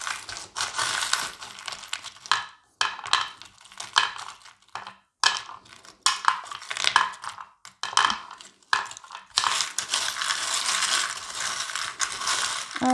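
Small metal charms rattle and clink on a charm-casting board, sounding as a close series of bright jingling, coin-like tumbles in irregular bursts with short quiet gaps between them.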